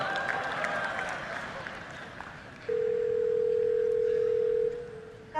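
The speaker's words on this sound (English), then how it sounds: "what you're going to hear is the Google Assistant actually calling a real salon to schedule the appointment for you" Telephone ringback from an outgoing call placed by Google Assistant to a real hair salon: a single steady ring tone lasting about two seconds, preceded by faint background noise, with no talk.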